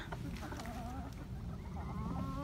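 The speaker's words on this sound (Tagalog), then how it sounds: "yung mga manok ko" Chickens in a home garden cluck and murmur in a steady, fairly quiet flock chatter, with a voice occasionally audible in the background.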